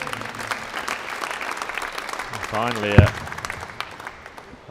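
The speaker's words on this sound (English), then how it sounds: "ripple of applause." A ripple of applause from the darts crowd at the 2020 PDC International Darts Open, during the van Gerwen versus Hamilton match, rises briefly under a commentator's steady talk.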